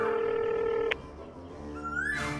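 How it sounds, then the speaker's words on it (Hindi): A phone call ringing out in a rural Haryana village setting, a steady electronic tone held for close to a second before a short burst and a rising beep; it sounds close and clear, with no talk over it. "घंटी जा रही है"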